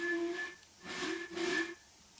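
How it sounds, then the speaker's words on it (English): A custom steam whistle on a Jubilee class locomotive in Train Simulator 2021 sounds three times: a long tone, a pause, then two more breathy blasts with hiss, alone and fairly close. "these are custom whistles, because this obviously doesn't sound like the actual"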